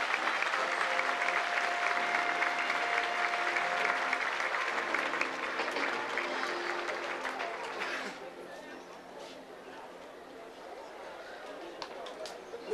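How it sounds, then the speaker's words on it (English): Audience applause at a SeaWorld Florida dolphin show, crowd clapping fairly far off and faint, fading after several seconds into softer crowd murmur and chatter. "How about a round of applause for Cindy and Christopher?"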